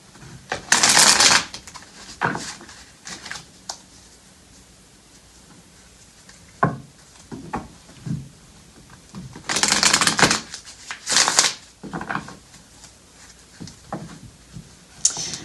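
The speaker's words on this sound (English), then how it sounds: "last shuffle, and then we'll pull some love cards" Tarot cards are shuffled in several quick riffling bursts, close and crisp, separated by quieter pauses with faint handling noises.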